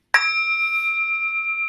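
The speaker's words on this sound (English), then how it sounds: "listen to the sound of the bell" A single bell struck once with a sharp attack, then a clear sustained ring that hangs with a slow, gentle wavering and barely fades, heard close and alone.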